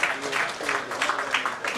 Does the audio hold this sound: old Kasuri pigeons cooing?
no